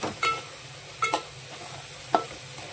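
A few short scraping stirs of a spoon through onion-tomato masala with bitter gourd in a pan for karela bhaji, three quick strokes over a soft steady sizzle, close and fairly quiet.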